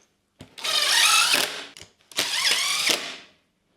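Two separate bursts of a power driver sink screws into a sheet metal firewall on a Model A hot rod. Each is a loud, buzzing whir lasting about a second, with a short pause between them.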